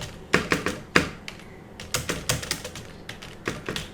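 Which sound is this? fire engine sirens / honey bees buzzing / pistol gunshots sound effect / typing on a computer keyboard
typing on a computer keyboard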